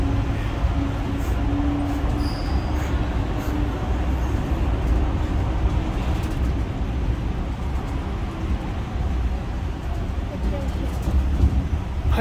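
A Disneyland tram rolls along with a steady rumble of wheels and motor, while a safety announcement plays over the PA throughout.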